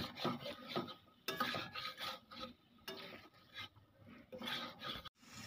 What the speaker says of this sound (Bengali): এটা আমি একটু 1 মিনিট মতন একটু কষিয়ে নেব।